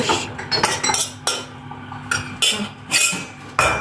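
Utensil stirring creamy chicken and potato in a pot, with repeated metallic clinks and scrapes against the pot in irregular bursts, close and fairly loud, no talking.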